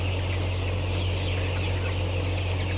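A large indoor poultry flock of about 10,000 chickens, sick with respiratory disease, clucks in a dense continuous din under a steady low machine hum, probably ventilation fans, with no distinct single calls.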